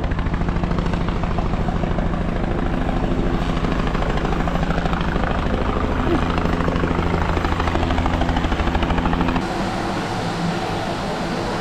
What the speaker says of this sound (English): there's a chopper now.